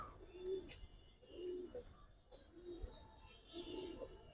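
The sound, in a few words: Giribaz pigeons cooing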